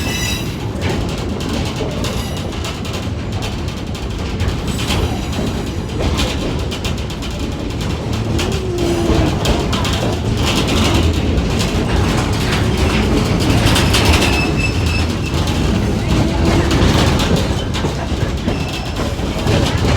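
Stone Mountain tourist train rolling steadily on its mountain line, a continuous loud rumble of railcars with faint clickety-clack and mechanical rattling throughout, no voices.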